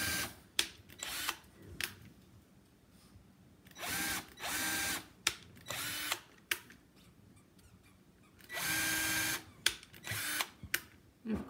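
A power drill drives short screws to mount a staghorn fern, with several separate whirring bursts of a second or so each, interspersed with brief clicks and handling knocks, close and loud with no talking.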